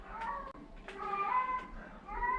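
A white pet cat meows several times in a home, the calls faint and somewhat distant over a low background hum, spaced across a couple of seconds.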